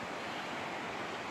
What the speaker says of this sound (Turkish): Şu aşağıdaki dere.